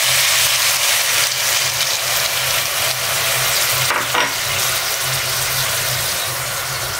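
Pakbet vegetables with tomato and bagoong are stirred in a hot frying pan, giving a loud, continuous sizzle with scraping stir strokes and a brief clatter midway.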